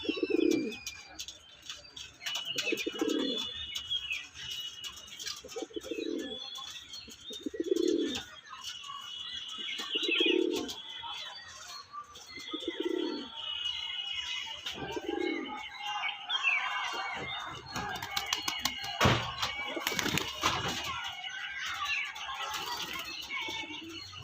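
Andhra home pigeons coo in a steady series of low, throaty calls spaced every couple of seconds, close and clear, later joined by sharper chirps and a burst of rustling noise.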